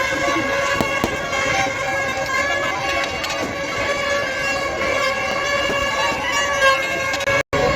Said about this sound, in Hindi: आप यहाँ पर देखेंगे यहाँ काफ़ी सारे स्काई शॉट चलाए जा रहे थे